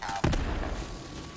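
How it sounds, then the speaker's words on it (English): A single booming explosion in Borderlands 3 after a brief lead-in, followed by a rumbling decay that lingers and slowly fades. "where are these explosions coming from?"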